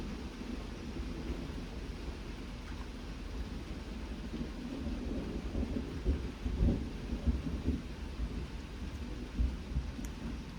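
Thunder from a long line of severe thunderstorms over a lake rumbles low and continuous beneath steady rain, swelling in a few heavier rolls.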